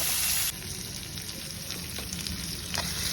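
Green chillies, onion and ginger-garlic paste sizzle steadily in hot oil in a pan for street-style Maggi noodles, a close, continuous frying hiss with light stirring scrapes and no talking.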